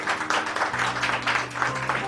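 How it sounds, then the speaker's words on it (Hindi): A church congregation claps in rhythmic bursts during a Hindi-language sermon, the applause fairly loud and close with faint murmuring beneath it. "ताली बजाना पड़ेगी।"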